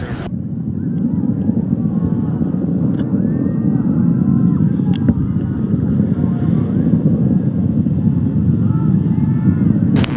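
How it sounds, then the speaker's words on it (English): Soyuz MS-20 rocket engines during launch and first-stage flight, a steady, loud broadband roar with dense low rumble and crackle, continuous throughout with faint radio chatter over it. "Engines are working nominally."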